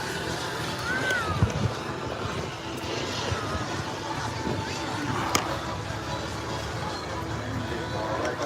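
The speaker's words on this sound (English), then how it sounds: "He's setting the PDX jet up for landing." Steady engine roar from a PDX jet flying at the Wings over Houston air show, a continuous broadband rumble that holds level throughout, with crowd voices and talk mixed underneath.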